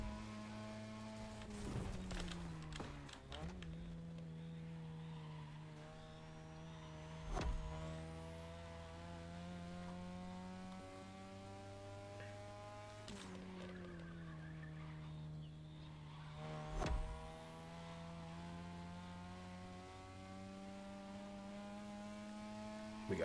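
A car racing in The Crew Motorfest on a Japanese touge-style mountain course, its engine droning steadily with pitch rising and falling through gear changes. Sharp transient bursts repeat a few times.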